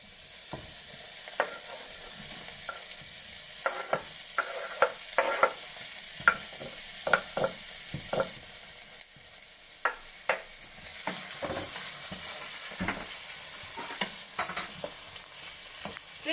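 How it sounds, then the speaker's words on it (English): Vegetables sizzle steadily in a hot pan while a utensil stirs and scrapes with scattered clicks and taps, close and alone without talk. "Let that fry out for a little bit."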